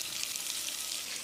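Sliced onions, cut lengthwise, fry in a pan for ghee rice, giving a brief, steady close-up sizzle and hiss with no talking.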